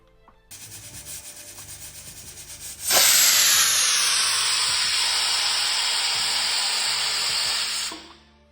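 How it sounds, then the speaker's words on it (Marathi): A pressure cooker whistles, a loud, steady hiss of steam blasting out, starting abruptly and holding for several seconds before cutting off, with a softer rhythmic hiss just before it. "आणि दोन शिट्या करून घेते कुकरच्या"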